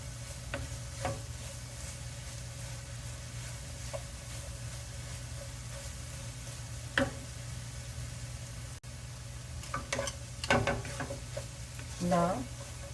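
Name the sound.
stirring carrot burfi mixture in a pan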